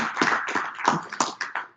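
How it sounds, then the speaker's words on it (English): Audience clapping hands at a forum session, a short burst of scattered, uneven claps fairly close by, lasting under two seconds with no speech over it. "So now you can clap hands for me as I sit down."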